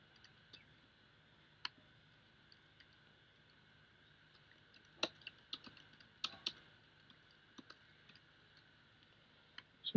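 Keys tapped on a computer keyboard while CSS is written, in scattered single clicks and short bursts of quick keystrokes over a steady faint hum, with a louder cluster near the middle.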